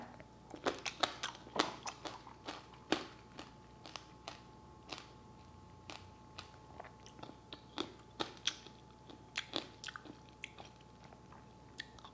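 Sugar-coated strawberry tanghulu is crunched close to the mic, a rapid irregular series of sharp cracking bites and chews over about twelve seconds, with no talking.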